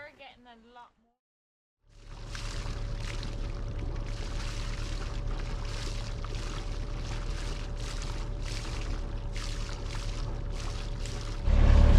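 A family's sailboat motors away from its anchorage at Pancake Creek on a calm morning, with a steady engine hum and rhythmic water sloshing along the hull. A brief voice is heard at the start.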